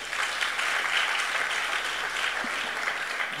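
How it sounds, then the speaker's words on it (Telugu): Steady applause from an audience at a pastors' interview event, continuous and fairly loud for several seconds, with no voices on top. "చప్పట్లు కొట్టురా."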